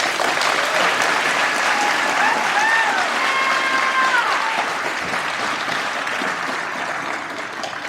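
An audience at a school Veterans Day program applauds after a speech with loud, sustained clapping. A few whistles or cheers rise above it before the applause gradually fades.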